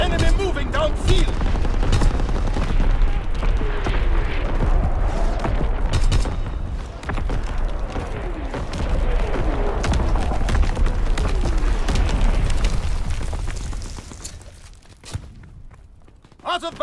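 A battleship's primary battery firing in a video game, heard as a dense, loud stretch of booming and rattling gunfire blasts that fills most of the clip before thinning out near the end, with game voices mixed in.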